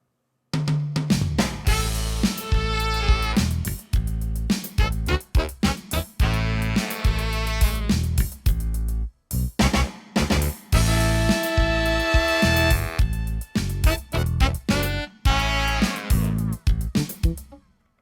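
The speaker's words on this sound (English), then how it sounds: "what you're hearing there is 4 different studio horn parts" Punchy four-part virtual studio horn section in Logic Pro X plays short staccato stabs and sustained chords, layered parts moving together, loud and close with brief gaps between phrases.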